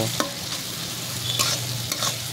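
A spatula stirs chicken with yogurt and mango leaves in hot oil in a pan, giving a steady loud sizzle with intermittent scraping strokes, close and continuous without speech.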